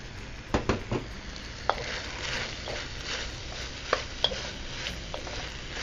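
Chicken stir-frying in a wok gives a steady sizzle with repeated sharp clacks and scrapes of a utensil against the pan, close and moderately loud, with no speech.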